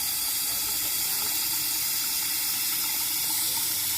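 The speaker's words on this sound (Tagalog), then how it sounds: "May tubig na, may hot water na." Hot water runs from the tap of a solar water heater that is filling and overflowing, a steady loud hissing gush that stays constant and close throughout, with no talking over it.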